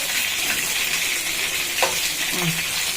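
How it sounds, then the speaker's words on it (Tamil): Duck pieces sizzling in hot oil in a pan while duck curry is cooked, a steady close frying hiss with faint stirring scrapes. "நான் இந்த பக்கம் அந்த பக்கம் வறுக்கிறேன்"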